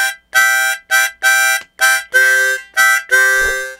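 Harmonica plays line two of a song's third solo: five separated blown notes on the 5-6 holes alternating with lower 3-4 notes, loud, close and rhythmic with no talking.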